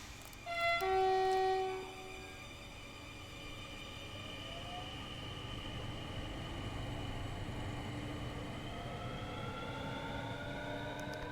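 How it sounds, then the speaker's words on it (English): A Dutch sprinter passenger train running on the Zwolle to Groningen line in Train Sim World 5, with a quiet, steady rumble and faint rising motor whine, plus a brief tonal warning chime near the start. "It's a very quiet sounding train."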